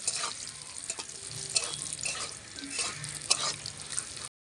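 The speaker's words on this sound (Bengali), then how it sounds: "এবার আমি কাজু কিশমিশটা ভেজে নেব।" Cashews, raisins and peanuts fry lightly in hot oil, giving a steady close sizzle with occasional stirring scrapes and small bursts throughout, no voices over it.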